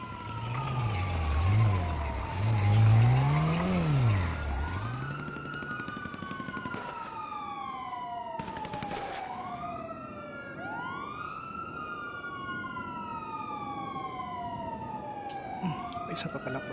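Police car siren wailing up and down, sweeping through repeated rising and falling tones that grow clearer after an initial stretch of talk and low rumble.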